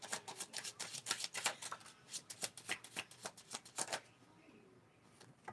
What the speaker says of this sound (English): Let me give it a soft shuffle.